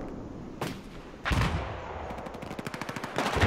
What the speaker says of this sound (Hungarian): Némi lövöldözés történik itt is, csak tudnám, hogy kire lő.